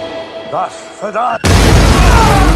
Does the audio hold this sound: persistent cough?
no